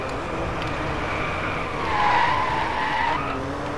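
A car skids and drifts on a wet track in the Driveclub racing video game, with a sustained engine drone and a rising tire squeal in the middle, steady and unbroken, no voices.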